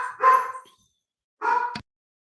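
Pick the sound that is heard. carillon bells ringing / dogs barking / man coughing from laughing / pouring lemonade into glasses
dogs barking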